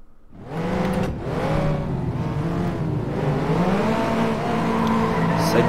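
A Venom car races around a speedway track in FlatOut Ultimate Carnage, its engine droning steadily and loud with rising and falling revs, plus tire noise throughout, and no voices.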